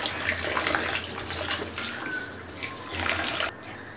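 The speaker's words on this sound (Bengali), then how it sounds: "আর এই যে দেখেন আমি হচ্ছে প্রথমে চালটা ধুয়ে নিব।" Rice is washed in water while cooking at home, with steady splashing and running water close by and a few brief swishes, moderately quiet.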